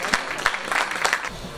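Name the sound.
applause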